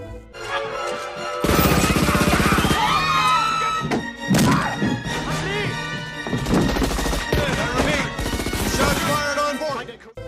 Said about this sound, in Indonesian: baku tembak terjadi antara pengawal presiden dengan para teroris